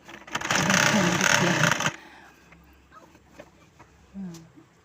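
Domestic sewing machine stitching a churidar at home, a dense loud burst for about two seconds that then stops, followed by quieter household sounds and faint voices.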